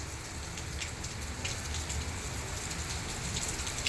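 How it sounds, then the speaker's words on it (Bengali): Heavy rain falls steadily in a continuous dense hiss with scattered droplet patter, unbroken and fairly loud throughout, with no voices. "দেখুন, বৃষ্টি হচ্ছে, প্রকৃতি ভিজে গেছে"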